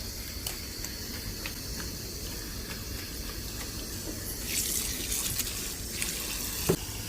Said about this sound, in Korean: 샤워기로 엄지손가락에 물을 태워서 귀 뒤쪽도 꼼꼼하게 물을 묻혀주시면 됩니다.